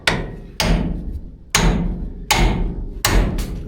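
A hammer busting ball joints on a 1971 Chevrolet C10: five loud, sharp metallic strikes at uneven intervals, each ringing briefly before the next blow, close by in a garage.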